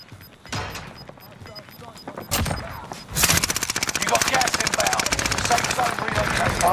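Call of Duty gunfire starts with scattered shots and then becomes sustained rapid machine-gun bursts, loud and continuous. Voices can be heard in the game chatter alongside it.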